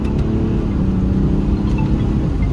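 A 2014 BMW 435d xDrive M Sport with automatic gearbox in manual mode pulls away, its diesel engine a loud, steady rumble with a rising harmonic drone and continuous road noise.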